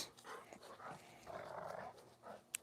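Two rowdy dogs growling and panting close by in short uneven bursts, fairly faint, with a small sharp knock near the end.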